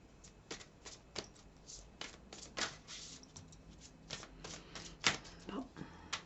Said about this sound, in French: Je vais continuer de sortir des cartes.